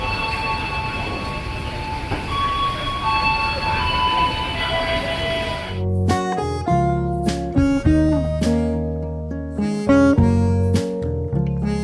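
Jayakarta train at platform 4 of Pasar Senen station, first a broad rumbling roar of rolling rail cars, then loud sustained tonal squeals and whines from wheels and brakes as it moves along the platform.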